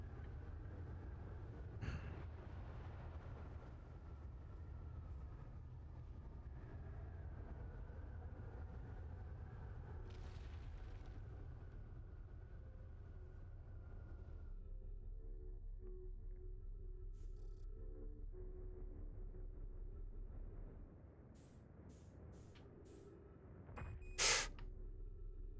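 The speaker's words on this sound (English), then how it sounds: "I think I can hear the storm coming." Low, continuous rumble of an approaching storm in the space exploration game Outer Wilds, a steady droning roar that holds for most of the stretch, with a brief sharp crackle near the end.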